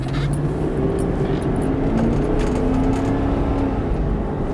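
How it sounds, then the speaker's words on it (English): A cheap, formerly stolen Cadillac Escalade being driven, its engine hum and road noise a steady, loud drone from inside the cabin, with no talk. "we're going to take it on a drive and hope for the best"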